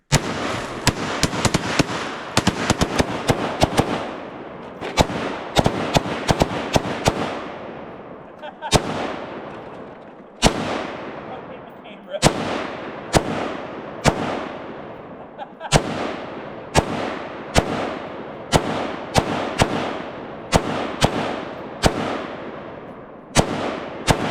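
Repeated loud gunshots fired outdoors at targets, some shots in quick clusters and others spaced a second or two apart, each a sharp crack with a trailing echo.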